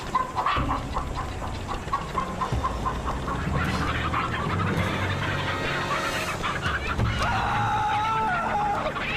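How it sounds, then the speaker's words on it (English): Chickens clucking and squawking in a TV show scene, the calls slightly lo-fi and tinny, with other fowl sounds layered over a busy background throughout. "hearing these chickens in a tad worse audio quality, it just felt very jarring to me"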